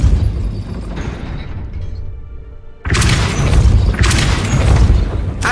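Depulso force spell cast in the Hogwarts Legacy video game, a loud booming magical blast with a crashing burst partway through, followed by further rumbling impacts.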